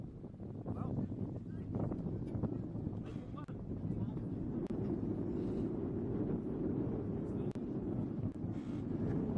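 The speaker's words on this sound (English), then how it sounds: "Very windy down there in Christchurch at the moment." Strong wind buffets the microphone at an outdoor touch rugby tournament in Christchurch, a steady low rumbling roar that runs the whole time beneath a commentator's voice.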